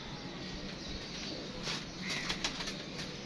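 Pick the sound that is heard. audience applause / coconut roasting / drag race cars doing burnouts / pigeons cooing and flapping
pigeons cooing and flapping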